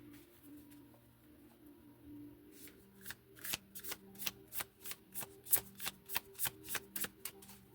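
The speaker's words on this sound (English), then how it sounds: "Let's pull a little bit of tarot." Tarot cards shuffled by hand in a quiet room, a dozen crisp riffling bursts in quick rhythm after a soft, hushed start, close and moderately loud with no talking.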